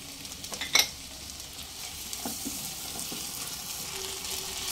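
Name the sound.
sautéing ginger-garlic paste and chopped tomato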